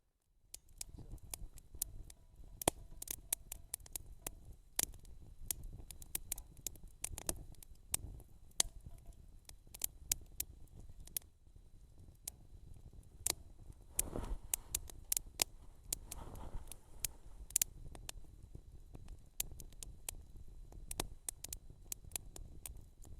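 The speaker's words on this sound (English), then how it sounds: "you can just hear the rain hitting all the little leaves and everything" Rain patters on the small leaves of low ground vegetation in a forest under tall pine trees, a dense, steady scatter of soft ticks and taps that stays faint and even throughout, with no talking.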